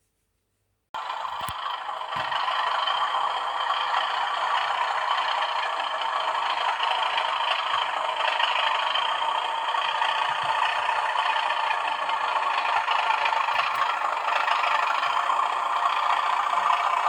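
A model Class 37 locomotive's engine sound played through a small sound-chip speaker starts abruptly after silence, then drones at a steady, fairly loud idle with no talking.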